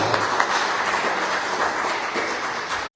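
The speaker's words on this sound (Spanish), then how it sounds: "Le damos un aplauso al Rey de Gloria que nos tiene aquí." A church congregation applauds together in a steady, dense wash of clapping that holds at an even level throughout, broken only by a brief dropout near the end.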